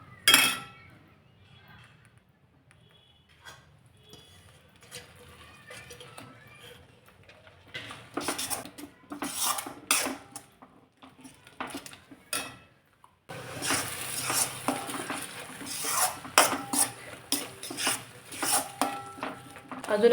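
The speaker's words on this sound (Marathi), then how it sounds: "तरी सुद्धा हे थोडंसं परतून घ्यायचं अजून." Onion and tomato being sautéed in a pan for a nutritious rainy-season recipe, heard as intermittent scraping and rasping stirring strokes against the pan, quieter at first, then denser and louder clusters of scrapes with brief clinks near the end.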